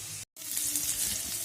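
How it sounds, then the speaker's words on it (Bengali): Radish greens and a small batch of potatoes fry in a pan with a steady, close sizzle, cut by a brief silent gap near the start and then continuing evenly without talk. "এখানে মূলো শাক ভাজা চলছে। এখানে ছেলের জন্য অল্প আলু ভাজা করছি।"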